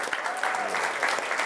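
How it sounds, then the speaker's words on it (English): A comedy club audience applauds at the end of a stand-up set, with steady, dense clapping filling the room, close and continuous. "give yourself a round of applause."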